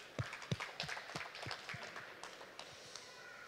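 A lecturer at a library talk claps her hands in a quick run of about eight soft, close claps that slow and fade toward the end, heard faintly in a quiet room.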